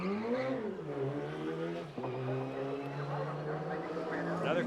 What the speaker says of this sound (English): the car appears to sound better on the way out